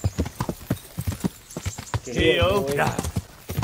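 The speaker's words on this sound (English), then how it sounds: "Get on the horse" Horse hooves clip-clopping in the medieval video game Kingdom Come Deliverance, a steady rhythmic trot beneath a man's speech, with a brief burst of louder game sound midway.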